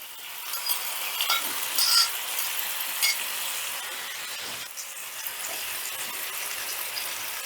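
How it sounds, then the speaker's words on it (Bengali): Spiced tomatoes for a tomato bhujia go into lightly heated oil in a pan, setting off a steady, fairly loud sizzle with a few brief stirring clatters near the start and no voices. "এবারে তেলটা হালকা গরম হয়ে গেলেই দিয়ে দিচ্ছি মেখে রাখা টমেটোগুলো"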